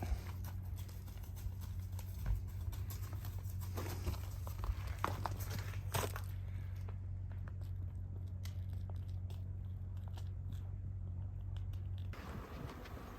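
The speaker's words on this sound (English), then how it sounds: "That's a black cow for those of y'all that can't see." A black cow loose in the country, walking near the microphone. Irregular hoof clops and shuffling steps are mixed with chewing or munching sounds over a low rumble.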